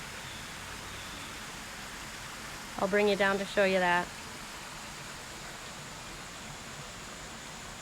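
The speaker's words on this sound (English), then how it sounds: "And we have our own personal waterfall." A small waterfall in rocky, wooded country sends out a steady broadband rush of falling water, constant and moderately near, with someone speaking briefly over it midway.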